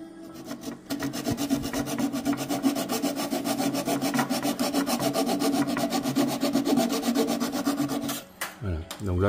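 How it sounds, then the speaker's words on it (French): A flush-cut saw rasps rapidly back and forth trimming a wooden plug in a fast, even rhythm, close up, stopping near the end with a few knocks. "du coup on vient avec une scie à raser"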